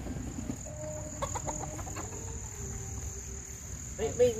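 Gamefowl roosters of Gilmore and Boston sweater cross lines cluck in short, faint bursts at a farm at nightfall, over a steady whine of crickets, with a slightly louder call near the end.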